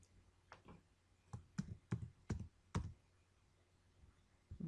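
Soft keyboard typing in a quiet room, a loose run of separate key clicks that bunches into a quicker burst of sharper taps midway, then thins out to faint scattered presses.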